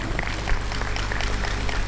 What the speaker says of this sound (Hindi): चलो भाई महेश के लिए जोरदार ताली बजा दो